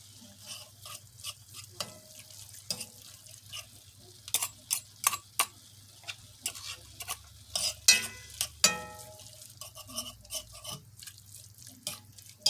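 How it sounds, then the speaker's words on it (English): Taco pie filling with onion frying in a pan, heard as scattered sharp scrapes and clinks of a fork stirring against the pan over a faint low sizzle, with irregular bursts and pauses, no talking. "we'll finish frying this up"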